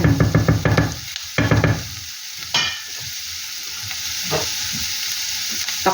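Ingredients for ginataang laing, a Filipino coconut-milk dish, frying in a pan, with repeated rhythmic stirring clatter and knocks in the opening seconds, then a steady low sizzle with occasional scrapes.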